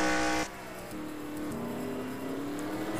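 A NASCAR Nationwide Series race car at Watkins Glen roars past close by, its engine note sliding upward as it accelerates away, loud and steady with no talk.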